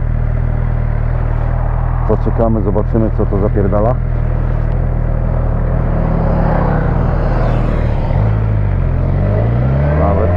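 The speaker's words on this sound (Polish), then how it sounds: "O, motorki jadą." Engines of motorcycles rumble past on a road, rising and shifting in pitch, while someone talks over the steady vehicle drone.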